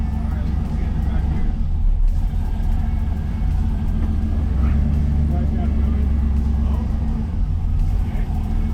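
An LS-swapped Chevrolet Caprice box-body cruiser idles and rumbles steadily as it is put into reverse, its deep low engine tone close and continuous with faint voices underneath.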